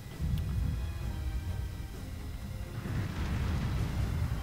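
Cannon fire and explosions rumble through a Total War: Shogun 2 – Fall of the Samurai battle, a continuous low, dense roar of distant booms that swells louder toward the end, with no one talking.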